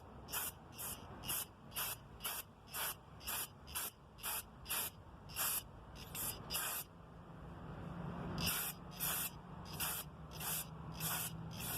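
Cleaner sprays in rapid short bursts onto the IAC valve of a Pontiac Grand Am, a regular run of close hissing spurts under a low engine hum, with a brief pause midway.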